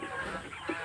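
A chicken gives a brief low cluck, close and soft, within a short moment of steady background noise.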